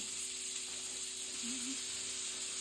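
Steady, close sizzle of diced onions frying in pans with melted fat for a Southern chicken fried steak dinner, a continuous hiss with a faint tonal hum underneath and no speech.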